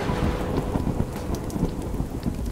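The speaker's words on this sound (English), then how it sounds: "I was not expecting a lightning bolt." Thunder from a lightning strike in the video game A Hat in Time, a sustained rumbling roar with rain-like hiss throughout, loud and steady, with no talking.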